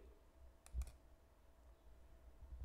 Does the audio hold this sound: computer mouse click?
yes